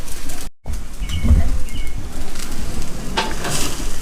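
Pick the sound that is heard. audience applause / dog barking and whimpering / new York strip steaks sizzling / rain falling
new York strip steaks sizzling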